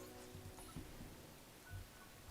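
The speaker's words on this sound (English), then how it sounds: "The rain sound effect is permanent now." Steady, soft rain hiss from a video game fills the whole stretch, a constant faint wash with a couple of slightly louder patters and no voices.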